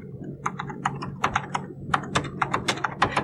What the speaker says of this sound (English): Now you're going to have to do some typing on the keyboard.